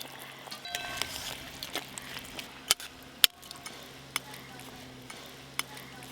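Fried bata fish is stirred into a simmering mustard sour curry, giving faint, scattered clicks and taps of a utensil against the pot over a quiet background.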